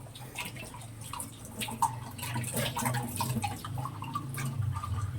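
Tap water runs into a sink during dishwashing, a steady splashing stream mixed with clinks of plates and utensils, moderately close.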